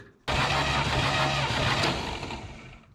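A 1967 International Scout engine bursts into loud, rough running after a brief quiet start, holding a dense, steady roar that eases slightly toward the end.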